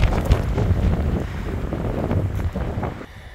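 Gusty wind buffets the microphone with a loud, rumbling roar that stays steady for a few seconds before easing off at the end.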